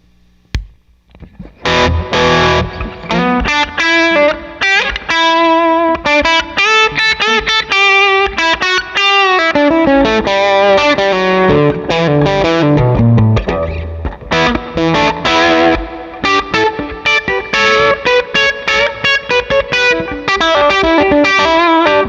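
Electric guitar played through a Divided by 13 EDT 13/29 amp with spring reverb in A mode: a lone pluck, then a loud, continuous run of distorted chords and riffs with reverb wash, alone without talk.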